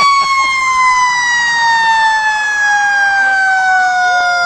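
Pioneer Fire Department fire engine number 71 wails its siren in a 4th of July parade, a loud, steady two-tone siren with slowly falling pitch that holds throughout over street noise.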